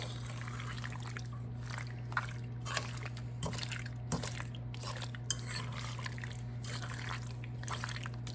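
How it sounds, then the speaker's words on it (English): Black cherry pie filling being stirred in a pot, giving soft wet squelches and faint scraping clicks spread over a steady background hum, with no voices. "Just try to give it a good stir to get everything incorporated."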